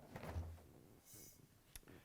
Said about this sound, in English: To get to the part, we need to open the left side door.